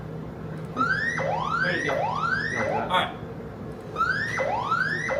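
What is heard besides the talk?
control room alarms sounding after pump trip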